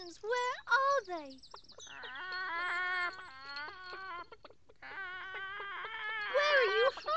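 Cartoon hens from the 1994 Noddy's Toyland Adventures give a run of voiced clucks and squawks, bursting out in close, loud, repeated phrases with short pauses between them.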